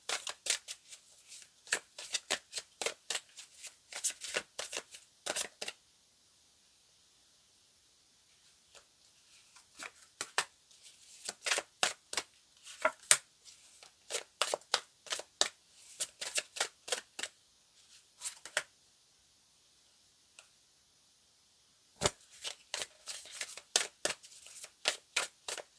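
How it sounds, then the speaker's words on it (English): Tarot cards shuffled by hand in bursts of quick, crisp riffling flicks, close and fairly quiet, with short pauses between runs and a longer gap near the middle. "let's pull out some tarot cards"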